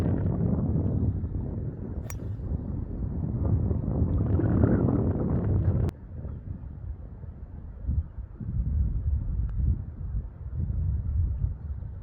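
Wind on a golf course buffets the microphone in a steady low roar, easing and gusting again over several seconds, with a couple of brief sharp knocks; no talking.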